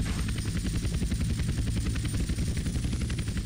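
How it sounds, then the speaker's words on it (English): Helicopter in the video game GTA San Andreas, a steady loud rotor thump and engine drone filling the whole stretch with no talk over it. "That's a helicopter that almost crashed,"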